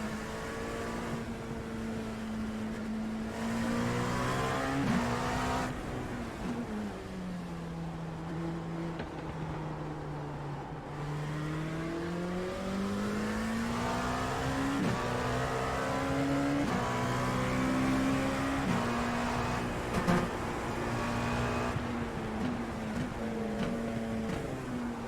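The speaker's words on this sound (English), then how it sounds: "There's a car approaching." A Porsche Cup race car engine revs through its gears in a racing game at Le Mans, one continuous loud drone whose pitch climbs and dips with shifts, holding steady throughout with no voices.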